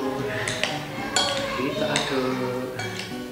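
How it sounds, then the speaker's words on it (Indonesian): Samyang noodles and sauce are stirred in a pan, with repeated metallic clinks and scrapes of a utensil against the pan at irregular intervals and some talk around them. "Kita aduk."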